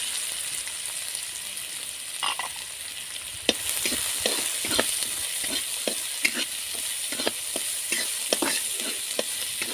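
Onions fry in oil in a kadhai, a steady sizzle overlaid with regular scraping strokes of a spatula against the metal, close and without talk.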